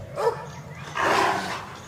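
A dog in a Hindi suspense audio drama gives two short, muffled barking or growling bursts indoors, fairly close and moderately loud.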